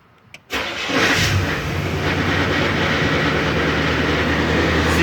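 A 1989 GMC Suburban engine fires up after a brief silence and settles into a steady, loud idle with a continuous rattling clatter running underneath, no voices.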